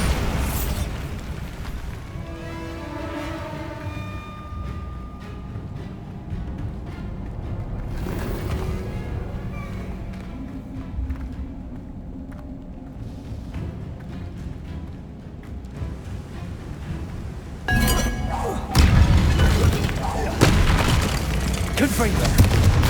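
Booming spell blasts from the Bombarda curse in Hogwarts Legacy, a series of heavy explosions within a busy combat mix of game music and effects, with a louder burst near the end.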